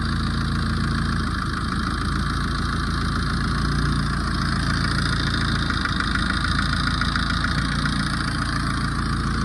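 A Tata Safari diesel engine idles steadily and loudly after an injector refit, a continuous rough rumble with no voices.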